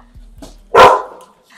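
Dog letting out a single loud, close bark indoors, preceded by a couple of soft thumps and small sounds.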